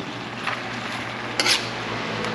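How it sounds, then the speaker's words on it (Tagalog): Mustard greens and garlic sautéing in a pan, with a steady soft sizzle and scraping stirs of a utensil against the pan, a sharper clatter near the middle; no talking. "Ito na po yung ating mustasa. Gigisa lang po natin."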